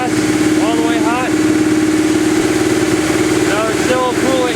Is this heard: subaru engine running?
yes